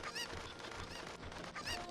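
Chickens in the video game Ocarina of Time cluck and squawk in a few sharp repeated bursts over a busy background, fairly close and without talking.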